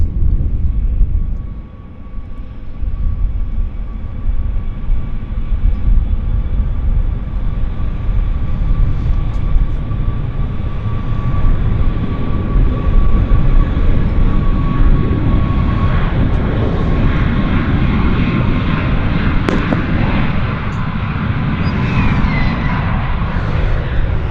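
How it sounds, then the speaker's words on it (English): Air Canada Boeing 737 MAX jet on its takeoff roll at Vancouver YVR airport, a steady loud engine roar with broadband rumble holding throughout, heard from a distance without talk. "Air Canada Max on the roll."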